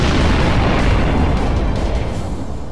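Kinetic barrage weapons fire striking an enemy ship in the space strategy game Sunrider, a loud, dense rumble of overlapping blasts and bursts that slowly fades, with no talking.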